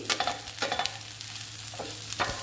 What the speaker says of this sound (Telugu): దొండకాయ ముక్కలు, అల్లం వెల్లుల్లి పేస్టు రెండు ఫ్రై అయ్యాయండి.